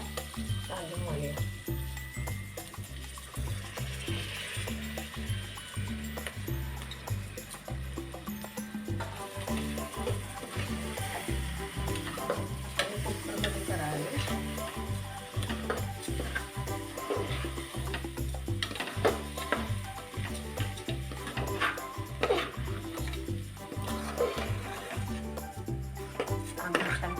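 Rice sizzles in a pan with onion, tomato, fenugreek and garlic paste, a steady hiss running throughout under music-like rhythmic tones and possible talking.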